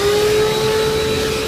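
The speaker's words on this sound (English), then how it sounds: "I would vacuum." A vacuum cleaner runs steadily while cleaning a car interior, a loud, close, continuous drone with a strong humming tone and no talk.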